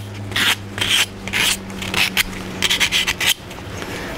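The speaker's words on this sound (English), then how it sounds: "sanding the wings inside" Rhythmic rasping strokes of sandpaper on the inside of a turned wooden scoop, a series of short scratchy passes close by with brief pauses between them.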